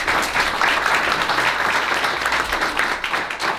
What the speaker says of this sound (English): Can we give a round of applause to those people here?